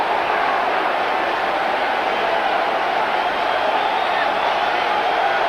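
Aston Villa supporters roar from the stands after a goal in an English football match, a broad sustained crowd cheer, steady and distant, with a commentator talking over it.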